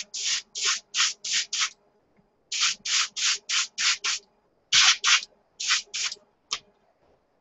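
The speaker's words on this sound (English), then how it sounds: "A little light misty spray." Airbrush spraying primer onto a Tamiya 1:72 SU-34 plastic model kit, short bursts of hissing spray in rapid groups of several, each a second or less, separated by brief pauses, close and clear.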